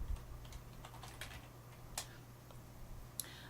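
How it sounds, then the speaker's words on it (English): Keys clatter on a computer keyboard in irregular light bursts, fairly quiet over a steady low hum of room noise. "pardon my typing here"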